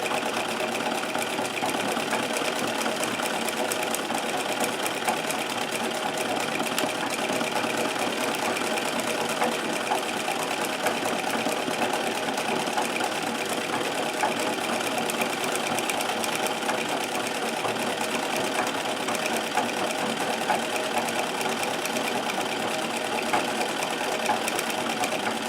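Singer 237 sewing machine stitching embroidery underlay, a steady, fast mechanical whirr with a continuous needle clatter heard up close, unchanging in speed throughout.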